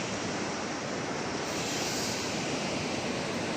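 A river rushes below a mountain trail near Phakding in the Everest region in winter, a steady broad roar of flowing water heard from a distance, continuous and unbroken with no voices.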